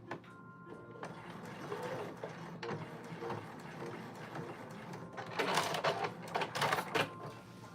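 A sewing machine stitches fabric for a hacked dress pattern with a lace panel, running in short close bursts of moderate loudness that grow busier and louder near the end.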